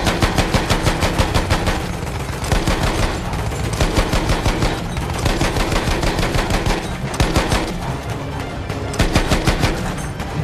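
Rapid automatic gunfire in the World War I shooter Battlefield 1, loud and close, with a fast, steady rhythm of shots running almost without a break through the whole clip.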